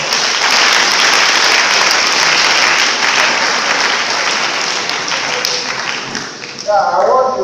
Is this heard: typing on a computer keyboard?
no